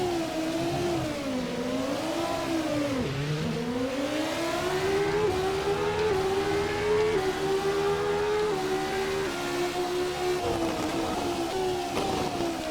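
A Renault R25 Formula 1 car's engine in a racing game, revving high and steady with rising and falling pitch through gear changes, loud and alone without talk.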